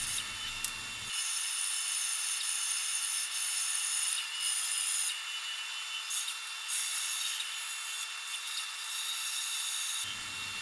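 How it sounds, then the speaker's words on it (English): A bandsaw cuts letters for a large metal marquee sign, a continuous close hiss and rasp of the blade running steadily through the cut with no talk. "the bandsaw I've found is the most accurate way to do this kind of work"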